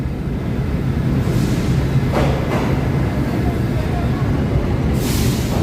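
A Bronx-bound D subway train in New York rumbles loudly into a station, with a hiss of brakes and a sharp screech partway through, then rising noise at the end.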